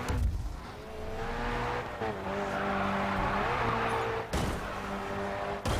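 A race car in Grid 2 drives hard with a steady engine drone that shifts pitch through gear changes, while tires squeal and skid loudly in bursts throughout.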